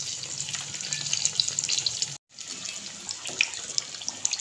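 Brinjal pakoras sizzle steadily in hot oil, a constant bright crackling hiss with one brief cut to silence partway through, heard alone with no talking.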